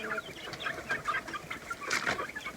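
Chickens kept in the cold, a flock mixed with larger chicks, clucking and murmuring close by in overlapping bursts with soft rustling in between.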